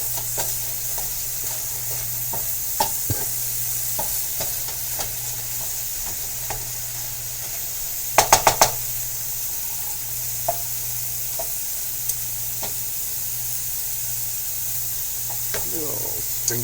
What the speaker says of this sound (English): I'm just going to kind of press with my spoon here.